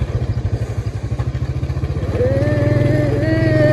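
A motorcycle on a rough, rain-soaked farm track, its engine thumping in a fast, even pulse with clattering over bumps, then revving higher with a rising whine, close and loud.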